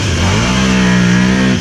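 A 2009 Can-Am Outlander 800 MAX ATV engine with a slip-on exhaust revs up and holds a steady, throaty drone for a moment before dropping off, close by, with no voices.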